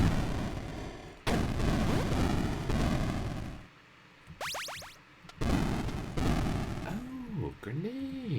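Chiptune grenade blasts in the retro 8-Bit Commando shooter burst out repeatedly as loud, harsh noise bursts, broken by short gaps, falling pitch sweeps and bouncing electronic blips.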